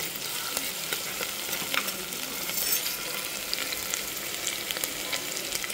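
Crushed garlic sautéing in a hot pan for dal rice, a steady close crackling sizzle with small pops and spatters, no voices.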